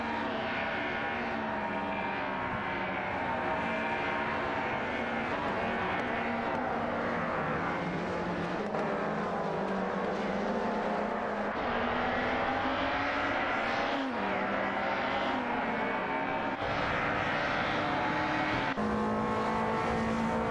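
Several race cars in an AI-driven racing video game roar around a track, their engines droning and shifting pitch steadily and loudly throughout with no gaps, with no one talking.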